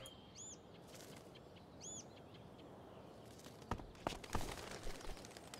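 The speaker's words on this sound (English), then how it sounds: "Scare that bird far enough away." A bird in the video game Life is Strange: Before the Storm gives two short chirps, then footsteps and scuffling knocks follow, louder and closer, over quiet ambient background.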